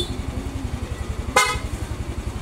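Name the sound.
motorcycle horn honking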